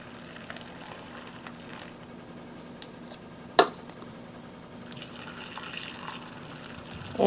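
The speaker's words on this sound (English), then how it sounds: "when I pour the water in, they are going to go down a little bit" Warm water is poured into canning jars of frozen vegetables while preparing them for pressure canning: a faint, steady trickle with a single sharp clink partway through, and no talking.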